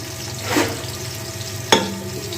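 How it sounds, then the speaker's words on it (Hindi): Sliced onions fry in oil for vegetable pulao, a steady close sizzle broken by a spoon scraping through them and one sharp knock against the pan. "और इसी में मैं शामिल कर दूँगी अनियन जो हमने स्लाइस की हुई थी, वो हम इसमें शामिल कर देंगे।"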